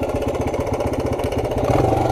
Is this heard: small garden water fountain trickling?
no